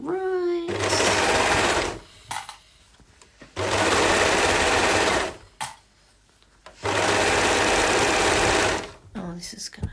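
A sewing machine stitches a leggings crotch seam in three loud, steady whirring runs, each lasting about two seconds, separated by short pauses with faint handling noise and brief bits of voice.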